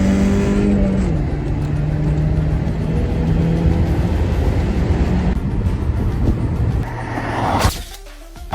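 A BMW accelerating hard during an illegal street race against an Opel, engine roaring with a rising whine and gear change, loud and close, then cutting off abruptly near the end.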